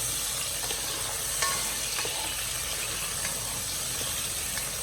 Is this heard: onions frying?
yes